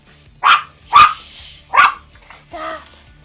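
Dog named Rusty barking at a door, three loud close barks in quick succession followed by a softer whining yelp, with faint household background.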